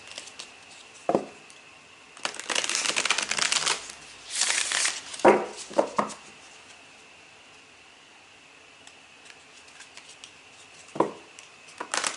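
Tarot cards being shuffled in several brisk riffling bursts, close and crisp, with quiet pauses and a final short shuffle near the end; no talking.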